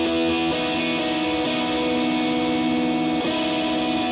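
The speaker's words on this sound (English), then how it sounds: "I kept this plate reverb." Electric worship guitar through a Helix Stadium XL with a plate reverb between medium and large, playing sustained chords that change every second or so, with a steady wash of ambience, loud and continuous with no talking.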